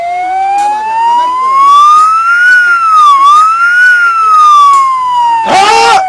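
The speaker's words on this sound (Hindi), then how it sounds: "तू मोबाइल सायरन कर दो" A wailing siren plays from a mobile phone, its pitch sliding up and down in slow sweeps, loud and close, ending in a burst of noise.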